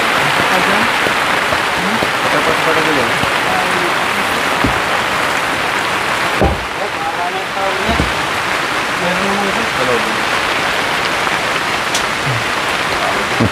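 Rain dripping through a leaky roof of a shelter in a forest during strong wind, a steady hiss of rain and drips throughout, with people talking over it.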